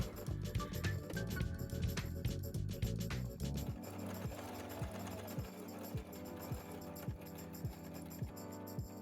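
A sewing machine stitches inner bra cups together, fast rapid needle clatter at first, then slowing to a steady, evenly spaced thumping run, close and without talk.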